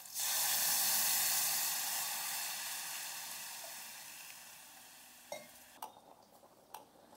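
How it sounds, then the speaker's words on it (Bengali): Water poured into sizzling masala and potatoes for a Bengali-style stingray curry sets off a loud, close sizzle that gradually dies down, followed by a few light clicks and taps. "দিয়ে দিচ্ছি জল"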